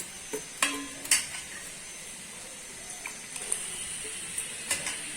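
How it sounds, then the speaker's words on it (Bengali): Cashews and raisins are stirred in a pan, with a faint sizzle and a few distinct scraping and clinking strokes of a utensil at intervals. "কাজু কিশমিশটাকে একটু নাড়াচাড়া করে নিব।"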